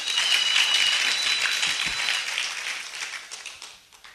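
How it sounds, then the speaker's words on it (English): Congregation applauding at a seminary commissioning ceremony, a dense wash of clapping that starts loud and steadily fades over about four seconds. "Let us clap for God."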